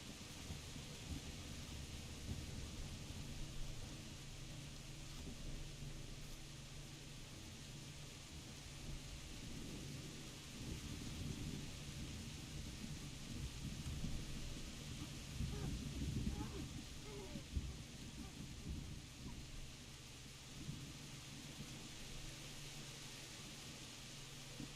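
Steady rain with rumbling thunder in the medieval video game Kingdom Come Deliverance, a continuous wash of downpour with deeper rolling swells mid-way, ambient and unbroken.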